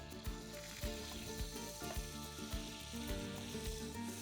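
Butter melting with olive oil in a warm pan before rockfish goes in, a soft steady sizzle with faint pops and occasional light taps.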